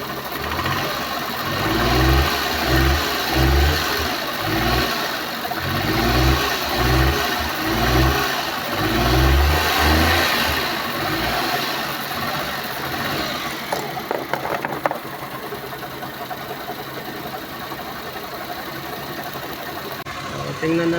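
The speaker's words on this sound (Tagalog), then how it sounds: "So, rev natin konti." A Suzuki Multicab transformer (DA64V/DA64W/DA17V/DA17W) engine revving under a possible low-power condition: loud, close mid-range engine noise rising and falling in repeated rev pulses over a steady idle, then settling back toward idle.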